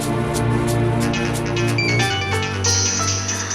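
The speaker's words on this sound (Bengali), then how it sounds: "পাখির বাড়ি থেকে ফোন" A loud electronic ringtone plays continuously, a bright repeating melodic tone close up with no one speaking over it.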